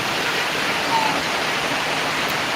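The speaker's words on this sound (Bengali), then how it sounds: "প্রচুর বৃষ্টি প্রচুর বৃষ্টি" A dense, constant wash of pouring rain on a market in Bogura, Bangladesh, loud and unbroken throughout.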